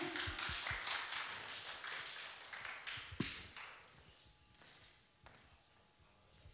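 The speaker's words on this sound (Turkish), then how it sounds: "Bir alkış alabilir miyiz kendisine?" Applause from a studio audience on a Turkish television music program greets an arriving guest, a dense spread of handclaps that peaks early then thins into scattered claps and taps, moderately loud and fairly close.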